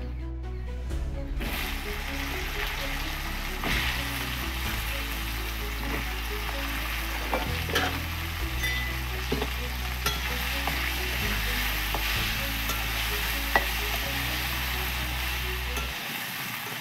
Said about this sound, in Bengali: এই তো লাল লাল করে ভাজা হয়ে গেছে ঢ্যাঁড়সগুলো